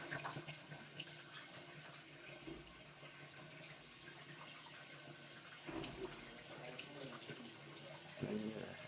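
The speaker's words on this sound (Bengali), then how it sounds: "ডাব নিয়ে নিছি মানে পানি বার করে দিই" Water runs and splashes steadily for several seconds as it is poured out of a green coconut, a continuous liquid pour with a few louder gushes near the end, recorded fairly quietly.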